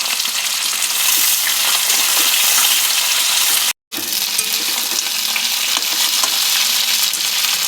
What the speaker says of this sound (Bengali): তেল গরম হয়ে গেছে, দিয়ে দিলাম 5 ফোড়ন। কেটে রাখা শিম, চেরা কাঁচা লঙ্কা